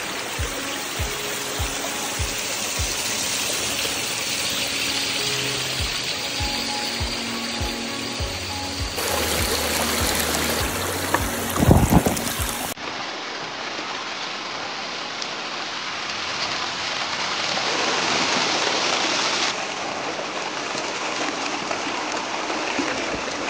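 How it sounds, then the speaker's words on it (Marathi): Water from the waterfall at Korigad fort rushes in a steady, loud broadband wash, with a brief knock partway through and no voices. "आणि हा आहे कोरीगडचा ते फेमस वॉटरफॉल."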